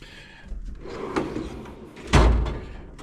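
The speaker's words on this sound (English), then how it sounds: "These have full extension drawer slides. So these drawers come all the way out." Tool cabinet drawers running out on full extension slides, a couple of soft sliding thumps and one louder knock near the end, close by with no talk.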